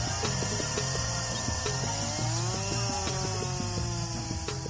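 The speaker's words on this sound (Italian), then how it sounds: "Per velocizzare il lavoro viene utilizzata una motosega." A chainsaw cuts through wood to shape a boat, its engine droning steadily and loudly for the whole stretch with a rising and falling whine as the chain bites into the timber.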